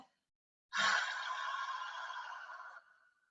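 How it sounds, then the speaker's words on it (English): A single long cleansing breath is pushed out through the mouth during a yoga session, a soft airy exhale lasting about two seconds and trailing off at the end. "So we're going to take a cleansing breath through the mouth."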